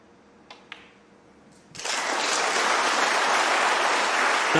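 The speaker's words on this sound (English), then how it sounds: "A justified round of applause." Snooker spectators at the Champion of Champions break into applause for a century break, after a near-silent arena with a couple of faint clicks; the clapping erupts about halfway through and holds steady, dense and loud.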